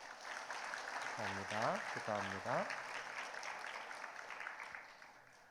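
A church congregation applauds together to congratulate ten members who finished a discipleship course, with broadband clapping running steadily under a speaking voice that talks over it throughout.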